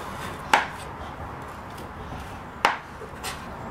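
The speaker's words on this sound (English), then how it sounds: "cut the edge off the cake straight down on all, and just do that on all the edges of your cake" A knife chops down through a cake to trim off its edges, two sharp separate thuds about two seconds apart against a cutting board, with quiet room tone between.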